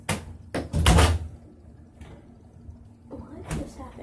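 An indoor door swings shut with a solid thump near the middle, followed by quieter knocks and handling sounds in a room; a faint voice is briefly audible.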